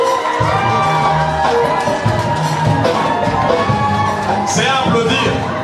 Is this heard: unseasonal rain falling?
no